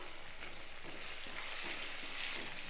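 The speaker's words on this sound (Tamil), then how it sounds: "தக்காளி வதங்கிட்டு இருக்கு" Tomatoes and tamarind sautéing in a pan give a soft, continuous frying crackle with faint stirring scrapes, fairly quiet and steady throughout, with no voices.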